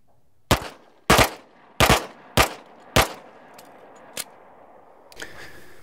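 Five sharp handgun shots fired in a grip drill, evenly spaced about half a second apart, loud and close, followed by a fainter click and brief rustle.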